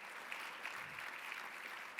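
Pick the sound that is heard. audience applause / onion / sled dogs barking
audience applause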